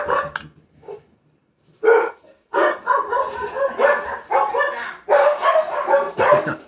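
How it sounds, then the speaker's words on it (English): A dog barks excitedly at a delivery arriving, a loud close run of yips and barks with whimpering mixed in, after a quieter opening. "Dog's going crazy."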